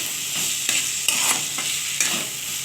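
Curry leaves frying in hot oil crackle with a bright, continuous sizzle, broken by a few sharp stirring scrapes close by; nobody speaks.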